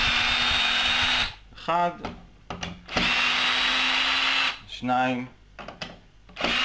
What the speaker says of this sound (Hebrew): אז אנחנו לוקחים הברגה ופשוט פותחים